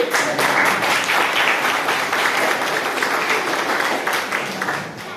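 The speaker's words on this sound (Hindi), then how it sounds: "अच्छी लगे बात तो जरा जोर से ताली।" Children in a school audience at a math magic show clap loudly together, sustained, dense applause that fills the space and tapers slightly at the end.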